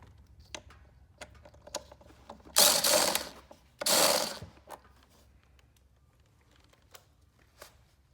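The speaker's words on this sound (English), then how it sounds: "just remove the two bolts to hold the oil pump into place" A ratchet turns out T30 Torx bolts holding an oil pump in a snowmobile chaincase tank cover, giving close rapid clicks in irregular bursts and two louder grinding spells in the middle.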